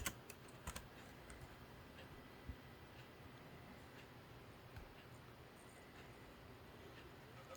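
Keys on a computer keyboard tapped in a short burst of quick clicks, then sparse scattered keystrokes over a faint, quiet room hum.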